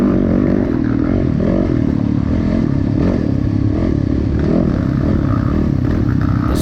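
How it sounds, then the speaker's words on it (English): A dirt bike engine running continuously at an off-road race, close and loud, its rough, uneven tone breaking up with clattering under steady throttle. "His bike sounded like it was breaking up a little bit"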